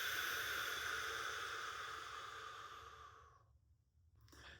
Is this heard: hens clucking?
no